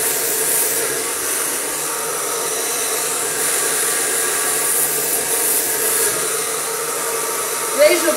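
Hair dryer blowing continuously while hair is dried and smoothed with a round brush, a steady close airy whoosh with faint brushing movement and a small clatter near the end.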